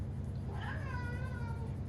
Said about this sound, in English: I got Roscoe in here meowing.